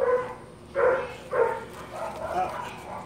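A dog gives a few short, muffled barks and yips at close range, spaced irregularly over a couple of seconds, near a bag full of flies.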